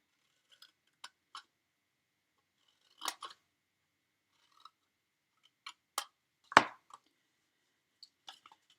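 Scissors make sharp, isolated snips as they trim small paper tabs on a Halloween treat box, close and crisp, a dozen or so irregular cuts separated by quiet pauses.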